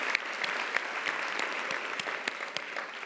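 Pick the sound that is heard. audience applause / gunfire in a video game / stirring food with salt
audience applause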